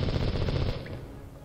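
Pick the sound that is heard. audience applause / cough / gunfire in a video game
gunfire in a video game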